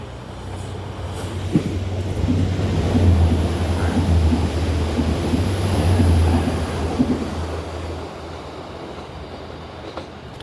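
A train arrives at a station platform with a low steady rumble and soft clickety-clack, swelling and easing over about ten seconds with no talk.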